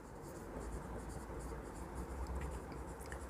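Steady, faint scratching as a balance sheet heading is written out by hand, continuous and close, over low background noise.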